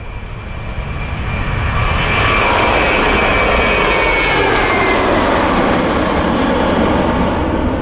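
Spirit Airlines Airbus A320 in the old yellow livery, its jet engines roaring steadily and loudly throughout, a broad continuous rumble with a rising hiss, no talk.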